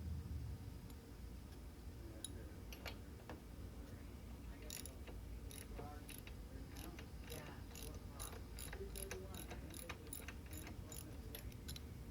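Spark plug being tightened on a lawn mower engine, with a series of small ratcheting clicks and ticks from the wrench, spaced irregularly at first and then coming in quick repeated runs, over a low background.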